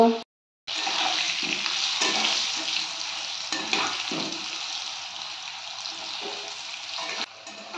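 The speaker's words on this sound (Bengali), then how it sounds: "অল্প একটু লবণ দেব, অল্প একটু হলুদ দেব, দিয়ে আলুগুলো ভেজে নেব" Potatoes seasoned with salt and turmeric fry in oil, a loud, even, continuous close sizzle after a brief silent pause at the start.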